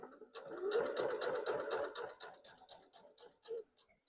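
A sewing machine shirring fabric, with elastic thread in the bobbin and regular thread on top, runs in a fast steady stitching rattle that slows into separate ticks near the end, close and fairly quiet with no voices.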